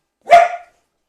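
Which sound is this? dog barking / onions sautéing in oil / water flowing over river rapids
dog barking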